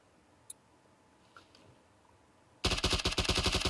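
Rapid automatic gunfire in a 1v1 shooter video game, a sudden loud dense burst of shots after near silence with a few faint clicks.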